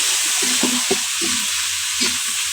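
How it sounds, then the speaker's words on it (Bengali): Onion and tomato frying in a pan with ginger, garlic, sugar and bay leaf. A loud, steady sizzle runs throughout while a spoon scrapes and clinks against the pan in short, uneven strokes. "তো পেঁয়াজের সাথে টমেটো একসাথে দিয়ে দিচ্ছি আমি"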